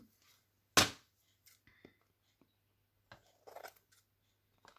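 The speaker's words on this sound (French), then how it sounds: "on va reprendre les ciseaux" Scissors snip sharply through paper once, loud and close, followed by faint small clicks and handling rustles in an otherwise quiet room.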